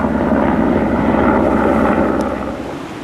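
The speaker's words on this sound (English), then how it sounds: "It was a helicopter actually, and you know what they're like, they make an awful lot of noise." A helicopter drones overhead as a loud, steady rumble with windy broadband noise, easing off slightly toward the end.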